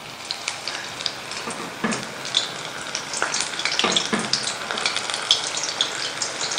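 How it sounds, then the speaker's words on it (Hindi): Small garlic pakoras fry in hot oil over a medium flame, giving a steady close sizzle with crackling pops and bursts of spattering, and no one speaks. "इसको मीडियम फ्लेम पर हमने फ्राई करना है।"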